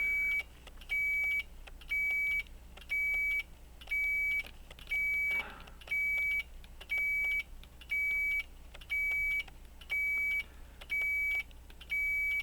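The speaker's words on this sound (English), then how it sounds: "Where's the long beep?" An electronic device beeps in a steady, regular rhythm, about one beep per second, fairly quiet with faint background hum.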